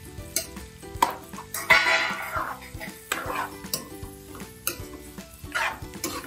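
Egg pieces sizzle and fry in oil in a pan for an egg curry, with a spoon scraping and clinking against the metal pan in irregular strokes, close and fairly loud.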